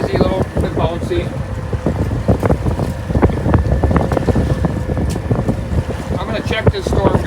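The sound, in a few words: wind blowing around a fishing boat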